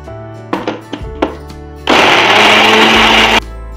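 A few sharp taps and thunks of a mixer jar being handled, then a loud kitchen mixer grinder whirring steadily for about one and a half seconds as it grinds cooled ginger pieces, cutting off abruptly.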